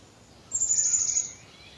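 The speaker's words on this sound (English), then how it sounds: "the bird song" A single bright, high bird call sounds for under a second outdoors in spring, clear above a soft background hiss with no one talking.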